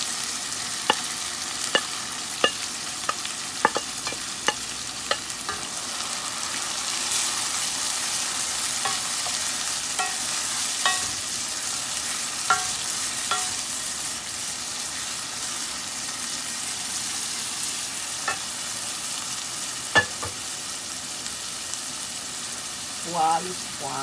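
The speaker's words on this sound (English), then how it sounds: "Now I'm gonna fry it." Black beans fry in a pan with a steady hiss of sizzling, punctuated by occasional clicks and scrapes of stirring, up close.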